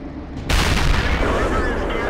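A tank destroyer's main gun fires in World of Tanks, the Rhm.-Borsig Waffenträger, landing as one sudden loud blast that carries into a dense, rumbling battle din for the remaining two seconds.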